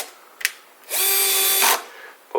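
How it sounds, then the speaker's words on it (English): Power drill with a magnetic tip driving a screw into a side-mount drawer slide: a short, loud, steady whir lasting under a second, framed by small clicks and handling knocks. "drill right in there. Drill a hole. I like to put a screw in right away."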